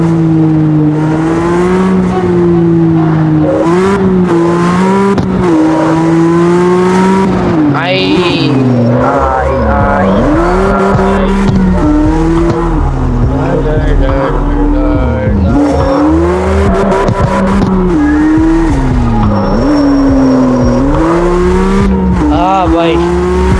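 In the street-racing game CarX Street, a car engine drones loudly and steadily, its pitch rising and falling as it revs through gear changes, with occasional tire squeals and someone talking over it.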